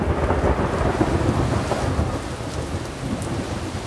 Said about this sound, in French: Il pleut, il y a du vent, la météo est épouvantable.